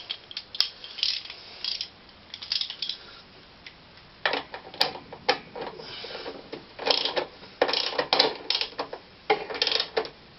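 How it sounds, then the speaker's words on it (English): A ratchet or spanner clicks in quick rapid bursts while a bolt is tightened on a Hayter 41 vari-drive mower during belt replacement, close and crisp with short pauses between runs. "I'll just tighten this bolt up."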